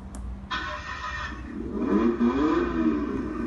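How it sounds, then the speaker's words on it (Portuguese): A yellow rally-style Jeep, built for potholes and mud, cranks to life after a short quiet moment and then settles into a steady, throaty engine roar that swells slightly and holds close by. "Ronco do motor, como sempre."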